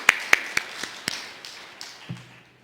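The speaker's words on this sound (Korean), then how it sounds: "우리 박수 한번 합시다" A handful of sharp claps in a church during a Wednesday prayer service, thinning out and fading quickly, with the room tone of a sanctuary behind them.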